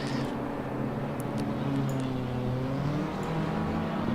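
Race cars in Assetto Corsa Competizione weaving side to side to warm their tyres at Suzuka, a steady moderate engine drone with slowly shifting pitch, fairly close, without speech.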